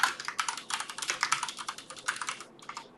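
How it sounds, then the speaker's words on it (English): A name is typed on a computer keyboard in a quick, close run of crisp keystrokes lasting about three seconds, slowing slightly at the end. "So what I would do is I would go type in her name, Jan Levinson"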